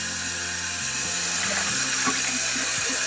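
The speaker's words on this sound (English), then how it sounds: "I'm just getting my water warm. I forgot to warm the water." Tap water runs steadily into a sink as it warms for shaving. The flow sounds close and even, with small clinks and shifts underneath.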